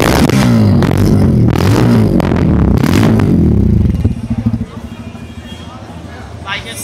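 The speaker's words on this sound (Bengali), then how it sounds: "এই হচ্ছে ইঞ্জিন সাউন্ড।" A Bajaj Pulsar F250 motorcycle's 250 cc engine runs loud and rumbling up close, then drops back to a steadier, quieter idle with some mechanical clatter.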